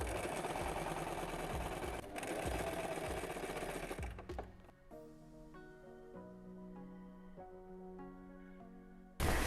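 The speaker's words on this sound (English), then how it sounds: "This seam I'm going to reinforce with some top stitching folded to one side." A sewing machine runs top stitching along a folded fabric seam, a steady mechanical whir for about four seconds, then quieter tonal hum with a short burst at the end.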